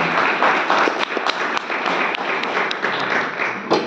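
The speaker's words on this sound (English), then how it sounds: "So I'm giving a big clap to all who came to participate here" Audience at a lecture on the 72 Melakarta ragas in Manchester, UK, clapping together in a dense, steady wash of applause for nearly four seconds, loud and even, with individual claps blending into one sustained roar.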